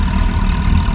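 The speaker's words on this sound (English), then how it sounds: "Oh, listen to them diesels. 800 RPM." Boat diesel engines idle at about 800 RPM, giving a loud, steady low rumble that stays continuous and close through a brief moment.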